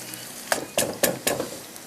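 Onions browning in a pan, sizzling steadily with four sharp stirring scrapes in quick succession, close and fairly loud, for a pasanda karahi.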